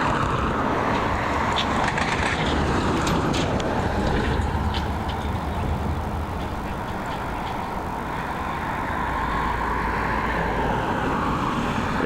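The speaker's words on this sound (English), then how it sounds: "This Airbus A321neo coming in from London Heathrow" An Aer Lingus Airbus A321neo arrives at Dublin Airport after a flight from London Heathrow, its broad jet roar steady and fairly loud throughout, easing slightly midway, with no talking over it.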